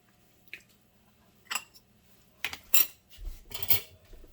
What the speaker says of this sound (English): I'm going to scoop it out